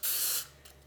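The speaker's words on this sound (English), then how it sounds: "I'm going to start by spraying each cup" Cooking spray hisses from a can into a cupcake tin's cups in one short close burst of about half a second, followed by a faint second puff.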